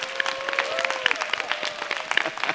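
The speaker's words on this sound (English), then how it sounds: "give them a big clap offering" A church congregation at a Sunday worship service claps in welcome, scattered, fairly light claps spread through a short burst, with a faint sustained tone and some murmuring underneath.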